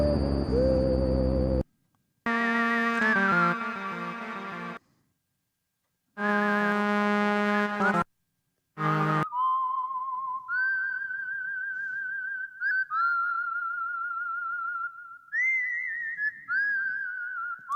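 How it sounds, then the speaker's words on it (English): A synthesizer lip-whistle patch in a Star Wars tribute plays a series of separate sliding, pitch-bending whistle tones with short gaps between phrases, clear and upfront with no voice. "lip whistle, I think"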